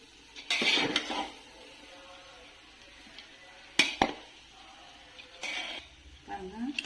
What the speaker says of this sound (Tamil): இதெல்லாம் நல்லா மிக்ஸ் பண்ணி விட்டுறணும்